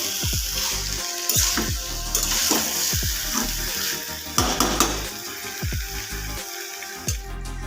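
Vegetables being stirred in a frying pan at home, a steady close sizzle broken by repeated scraping and clattering strokes of a utensil against the pan.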